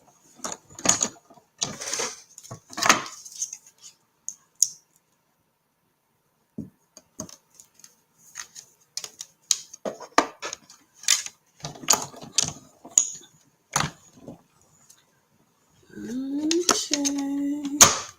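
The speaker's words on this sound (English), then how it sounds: "let me grab the die cut machine" A die cut machine handled and operated on a crafting table, giving scattered mechanical clicks and clacks with a whirring, cranking rise near the end, amid quiet handling noises.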